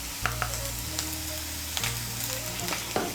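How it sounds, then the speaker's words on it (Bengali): Garlic and ginger paste fries in hot oil with a continuous close sizzle, broken by light taps and scrapes from stirring. A low steady hum runs underneath. No one speaks. "মিশিয়ে নিয়ে রসুন বাটাটাকে একটু ভেজে নেব"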